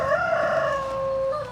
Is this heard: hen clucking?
yes